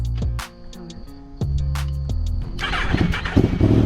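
A custom-built 8th-generation Honda bike with a roll cage starting up: an ignition churn, then the engine catching and idling roughly, close and loud, with the revs building toward the end.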